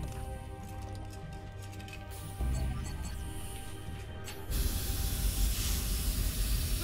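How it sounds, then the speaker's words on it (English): Steady hissing from a failing compressor in a sci-fi action scene, a broad rushing spray-like noise that grows louder in two steps, with a low rumble swelling underneath and no talk. "The compressor's failing!"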